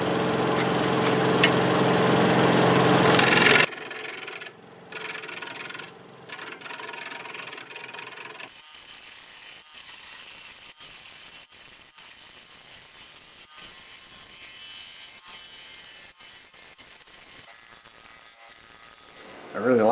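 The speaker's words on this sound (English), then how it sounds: "Use a freshly sharpened 5/8 bowl gouge." A freshly sharpened 5/8 bowl gouge cuts a laurel root ball spinning on a wood lathe, making a loud, rough scraping roar that stops abruptly. Quieter scattered clicks and taps follow.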